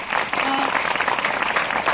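Short burst of loud applause from an audience at a Republic Day school debate, clapping for class 6 to 9 students, dense and continuous throughout.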